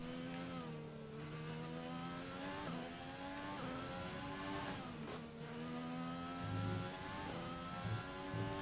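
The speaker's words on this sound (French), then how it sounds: "je vous laisse écouter le son du moteur" A high-pitched Formula 1 race car engine in the video game F1 2020 whines continuously, rising and dropping in pitch through gear shifts and revs, loud and unbroken.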